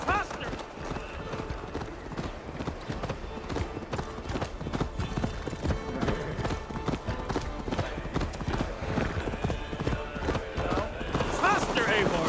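A horse gallops in Assassin's Creed Valhalla, steady hoofbeats drumming close and loud for the whole stretch while voices talk over the ride.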